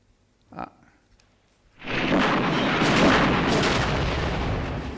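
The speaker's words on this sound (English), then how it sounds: "so you can see the flash and the bang and the compressed air" A pyrotechnic explosion effect for a scale model, fired with compressed air: a short pop, then after a moment a loud bang that swells into a sustained rushing roar of air lasting several seconds, with no talking.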